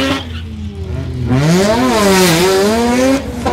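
A 13B rotary-engined Mazda 808 wagon, a 10-second street drag car on 225 radials, accelerates hard with a loud, rising buzzing engine note that climbs, dips through a gear change and climbs again, close and alone.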